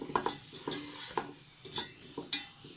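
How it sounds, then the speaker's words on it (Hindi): Mustard greens for sarson ka saag are stirred and fried in a pan, with a spoon scraping in about six distinct rhythmic strokes, close and clear over a faint sizzle. Nobody speaks. "अब साग डाल के इसको मज़ीद भूनेंगे"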